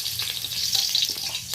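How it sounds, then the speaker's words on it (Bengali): Cut potatoes frying in oil in a wok, a bright continuous sizzle that stays close and fairly loud for a brief moment, with no voices. "এবার আমি কেটে রাখা আলুটা ওই তেলেই ভেজে নেব।"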